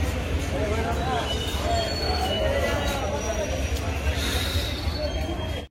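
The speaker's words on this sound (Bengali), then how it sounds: "ট্রেন আমাদের চলে এসছে সাঁইথিয়া জাংশন" The Ganadevta Express from Azimganj to Howrah pulls into Sainthia Junction with a steady rumble of wheels and faint squeals, while a crowded platform hums with chatter.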